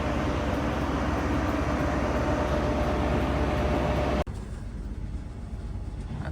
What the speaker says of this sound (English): On this Great Western Castle Set, it's hauled by 43198 at the front and 156 at the rear to Penzance.